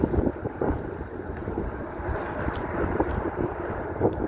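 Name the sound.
wind gusts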